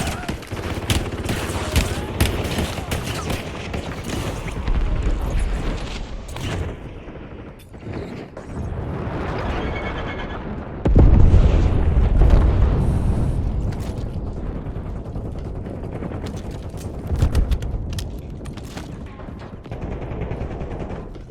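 Warzone video game combat with bursts of automatic gunfire, rapid shots and heavy booming explosions, loud and dense, mixed with brief game voice callouts.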